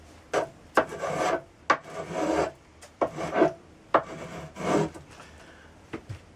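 A rasp works the wooden back comb of a pole-lathed stool in close, rhythmic strokes, about a dozen rough filing pulls with short pauses between them.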